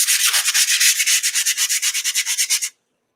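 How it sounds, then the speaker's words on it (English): Sandpaper rubs back and forth on a mixed media garden art journal page in quick, even strokes, loud and close, then stops abruptly and leaves silence. "If you don't like sandpaper, just mute me for a few minutes."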